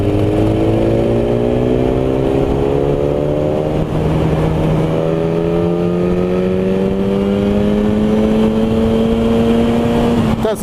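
A BMW S1000 RR motorcycle accelerates at full throttle in sixth gear on a country road, its loud engine note rising steadily and continuously, close up, with wind noise and no talking over it.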